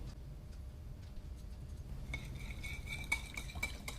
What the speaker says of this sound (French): Je vais les verser et puis mélanger le tout avec un fouet